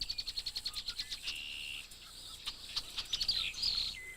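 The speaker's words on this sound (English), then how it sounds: "The red-winged blackbirds throw themselves into a frenzy." Red-winged blackbirds give rapid repeated chirps in a quick series, followed by trilling calls and a buzzy rising song, fairly close and clear in a quiet outdoor setting.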